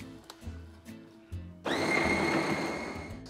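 A coffee machine starts up abruptly partway through, brewing medium-strength coffee with a loud steady whirring and hissing that runs continuously after a few quieter clicks and knocks.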